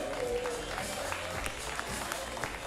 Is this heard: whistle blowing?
no